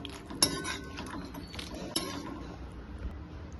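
Spoon clinking and scraping against a pan while aloo gobi with turmeric and salt is stirred, a few sharp metallic clinks among quieter scrapes, close and fairly soft, with no voice.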